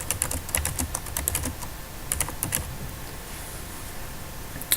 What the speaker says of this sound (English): I'm just going to type some text in here so that it appears in my page